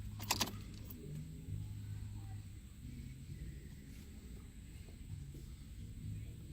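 A car key on a Focus jangles on its ring as it is turned off and pulled out, a brief bright clatter at the start over a steady low rumble.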